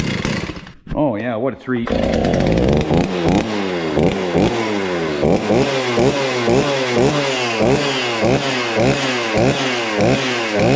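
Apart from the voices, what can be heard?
chainsaw starting and running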